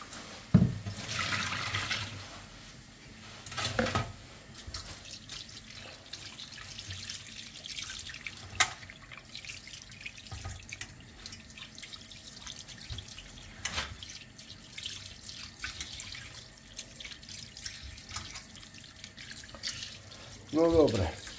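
Tap water runs and splashes as sea pike fish are rinsed under a kitchen faucet, a faint, ongoing trickle broken by louder splashes and clunks, with people talking quietly in the background.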